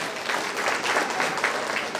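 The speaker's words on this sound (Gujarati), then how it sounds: "એમના માટે જોરદાર એકવાર ફરી તાળી." An audience at a community get-together claps together in a dense, steady burst of applause that fills the whole moment at close range.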